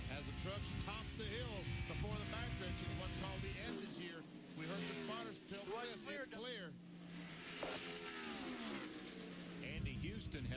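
Race truck engine roaring on board Mike Bliss's truck at the 1998 Parts America 150, a loud continuous drone with shifting pitch as other trucks pass close by, commentary voices running over it.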